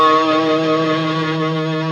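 A guitar sustains a single tritone note from the A blues scale, a steady harmonic tone ringing alone and close for about two seconds without decay.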